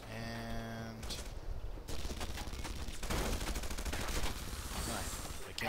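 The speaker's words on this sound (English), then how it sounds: "Alright, we can't melee you, I'll shoot." Gunfire in the video game Red Faction Guerrilla: dense, sustained bursts of shots from about two seconds onward, loud and continuous after an opening stretch of other game sound, with faint voices mixed in.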